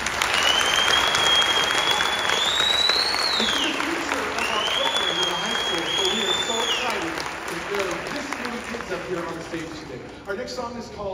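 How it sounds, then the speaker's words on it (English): An audience at an elementary choir festival applauds for the music teachers, sustained clapping fading gradually toward the end, while a sliding whistle-like tone rises and falls twice over it. "can we give a big round of applause for the elementary music teachers that put all of this together?"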